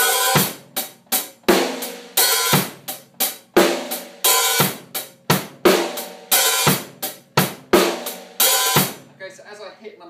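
A drum kit plays a steady beat, punchy bass drum hits with crisp hi-hat strokes, loud and close, ending in a short cymbal wash.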